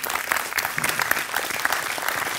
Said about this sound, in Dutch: Dames en heren, uw applaus voor Laurens Hondema.